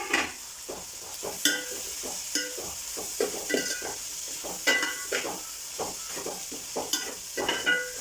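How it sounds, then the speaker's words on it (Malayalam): Chopped tomatoes tumble into a sizzling frying pan of chicken curry and get stirred, with repeated scraping and clanking of the spoon against the pan over a steady hiss of frying, close and fairly quiet, no voices. "തക്കാളി ചേർത്ത് കൊടുക്കുകയാണ്."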